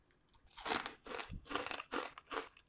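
Crunchy fried moringa leaf chips are bitten and chewed up close, five loud, crisp crunches in a quick irregular rhythm with no talking.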